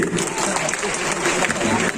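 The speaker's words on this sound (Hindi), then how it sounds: "आप जोरदार एक मरतबा तालियां बजा दें मेरे लिए।" An audience at a mushaira poetry gathering in Bhiwandi claps in a sustained burst of applause, a dense crackle of many hands that holds steady across the moment, with voices mixed in.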